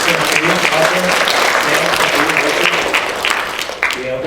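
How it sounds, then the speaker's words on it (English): A large audience at a Chinese Alumni Club panel discussion applauds the guest speaker, a dense, steady wash of clapping that stays loud throughout with some voices mixed in underneath. "give another round of applause for our guest speaker today"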